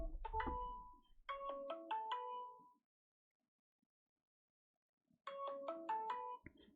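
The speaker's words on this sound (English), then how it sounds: "that was Big J ringing me" A phone ringtone plays a melodic chiming pattern twice, separated by a few seconds of silence, clear and close.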